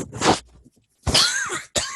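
A person coughs sharply into a close microphone in a few quick, rough bursts separated by short pauses, loud and dry, with no speech around them.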